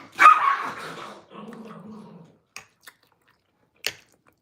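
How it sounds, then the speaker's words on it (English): Dogs bark once loudly and up close, then give a lower growling rumble. A few faint, short yips follow, with quiet gaps between them. "My dogs."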